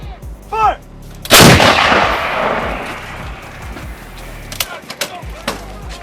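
Ukrainian forces' artillery gun in Kherson fires one loud, close blast that rolls into a long rumbling decay, followed by a few sharper, smaller cracks; a voice briefly calls out.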